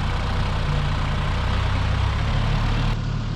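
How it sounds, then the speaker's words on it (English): A tractor engine idles in an orchard, a loud, steady low rumble that drones on without a break and shifts slightly in tone near the end. "It's a tractor."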